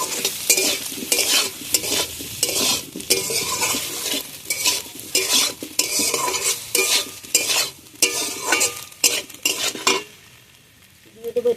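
Spices for a masoor dal bori curry with potato fry and get stirred in a pan, a busy, close sizzle broken by repeated rhythmic scraping strokes of a spoon against the pan, fading out near the end.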